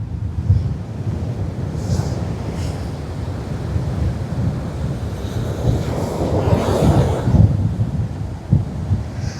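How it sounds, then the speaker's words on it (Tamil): Sea waves pound and surge close by on a coast in Jaffna, Sri Lanka, during sudden strong winds, a continuous roaring wash with heavy wind buffeting the microphone throughout. "வந்து பாருங்க எப்படி அலையடிக்குது அடிக்குது அந்த இடத்துல"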